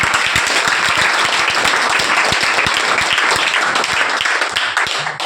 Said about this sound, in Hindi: तो एक बार उनके ससुराल वालों के लिए जोरदार ताली